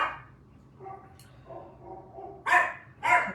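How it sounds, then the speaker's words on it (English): Dogs bark nearby in several short bursts, a few quieter yips first and then two loud sharp barks close together near the end, with no talking. "The dogs are barking."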